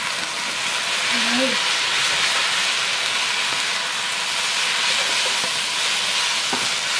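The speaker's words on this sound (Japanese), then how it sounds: "はい、炒めまーす。" Steady bright sizzle of Yokote yakisoba noodles stir-frying on a hot griddle, continuous hiss close up, with a brief voice near the start.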